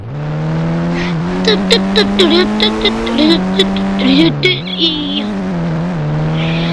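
A car driven in the Indian Bike Driving 3D video game gives off a steady, loud synthetic engine drone whose pitch steps up and down as it accelerates and shifts, with brief clicks over it.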